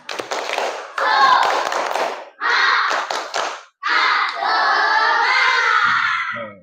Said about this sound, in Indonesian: Seperti biasa Bapak akan cek semangatnya. Ya, tepuk semangat.